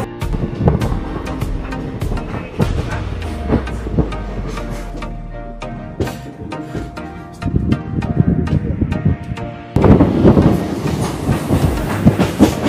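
Kolkata to Digha special passenger train, number 03161, running along the track: heavy rumbling with rhythmic clickety-clack of wheels over rail joints, rattling carriage noise and wind buffeting, heard from on board.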